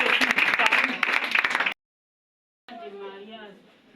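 A church congregation at a testimony service applauds in a loud, dense burst of clapping that stops abruptly after under two seconds; after a silent gap, a voice follows.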